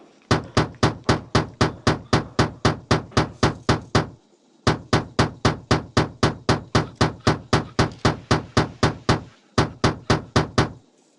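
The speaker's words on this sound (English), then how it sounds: "Pound the saucer into shape with the rubber mallet." A rubber mallet pounding a saucer into shape in the Tonka Workshop game: evenly spaced, punchy thuds in quick regular rhythm, in three long runs separated by short pauses, loud and close.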